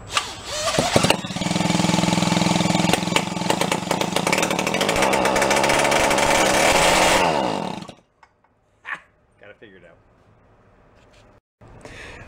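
A small two-stroke engine from a free bike fires up and runs loud and buzzy at close range for about seven seconds, then cuts out abruptly, leaving a few faint clicks and knocks.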